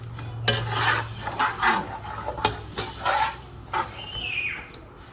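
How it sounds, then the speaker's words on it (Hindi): Vermicelli deep-frying in oil for sheer khurma, a close, crackling sizzle punctuated by scraping stirs and light clinks against the pan, with a brief high tone near the end. "देखा एक एक तार जो है पापड़ की तरह फ्राई हुई है, डीप फ्राई हुई है"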